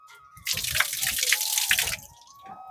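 From an opened pipe on a rooftop garden irrigation setup, a sudden strong gush of water runs for about a second and a half and then cuts off, close and loud against a quiet background.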